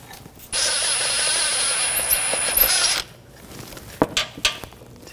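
A tool whirs loudly for about two and a half seconds while taking bolts out of the belt tensioner on a 2014-2020 Nissan Rogue 2.5L four-cylinder, then stops, followed by a few metallic clicks and knocks.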